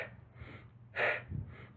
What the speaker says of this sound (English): Making noise on that exhale, really breathing it out strong.